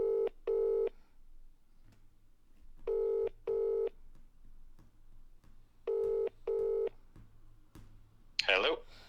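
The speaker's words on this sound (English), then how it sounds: "The phone is ringing." Phone call ringback tone heard through the line on a podcast, three pairs of short double rings with pauses between, followed by a brief burst of noise as the call connects.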